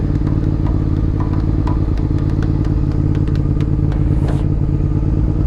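A motorcycle engine drones steadily at close range while riding, with occasional clattering ticks and thumps over the constant rumble.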